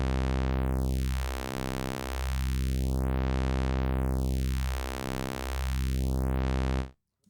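A Behringer 2-XM synthesizer plays a steady, buzzy sustained tone through a notch filter that sweeps down, back up and down again, hollowing the sound as it moves, then cuts off sharply.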